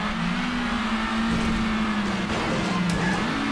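Car tipped up on two wheels in The Italian Job: L.A. Heist on PS2, a loud continuous engine hum that dips and rises slightly in pitch, close and steady with no talking.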